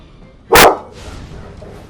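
A single sharp dog bark cuts in loudly in the background of a Skype call during a game session, brief and close, with low room noise before and after.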